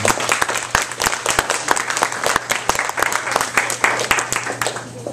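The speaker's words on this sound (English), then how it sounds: "I want to have you guys give another round of applause for Andy Bolton." A comedy night audience at a bakery cafe applauds a comedian, with many hands clapping in a brisk, dense patter of sharp claps throughout, fairly close and loud, with a little talk mixed in.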